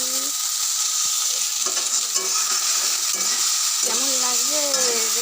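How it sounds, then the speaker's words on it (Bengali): Chow mein being tossed and mixed in a frying pan, with steady sizzling and stirring scrapes throughout and a brief voice sounding near the end. "চাউমিনটা দিয়ে মিশিয়ে নিচ্ছি"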